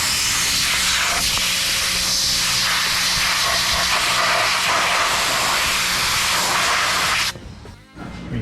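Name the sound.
pressure washer spraying rusted BMW E30 engine parts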